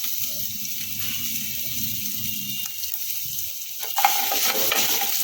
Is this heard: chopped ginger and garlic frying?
yes